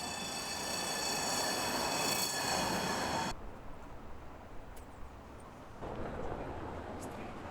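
Trams passing on a cobblestone street in Prague, a loud rolling rumble with high metallic wheel squeal that cuts off abruptly, followed by quieter street noise and another tram's approach.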